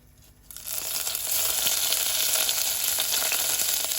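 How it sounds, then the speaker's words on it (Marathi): Curry leaves hit hot oil in a pan for a Goan moong dish. After a brief quiet moment, a loud burst of crackling sizzle erupts and continues steadily, close and alone. "तेल घाल म्हणटरी ही कारीपत्ता घाल"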